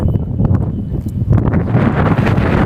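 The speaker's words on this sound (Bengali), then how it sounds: "প্রচণ্ড লেভেলে বাতাস শুরু হয়েছে" Strong storm wind buffets a houseboat moored on a haor wetland, a loud continuous roaring gust with microphone buffeting that swells in the second half.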